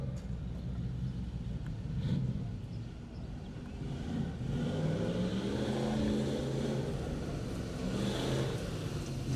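A dirt-track race car engine rumbles steadily as the car rolls toward the raceway entrance gate, a low, distant drone that swells and eases without sharp revs, with no talking.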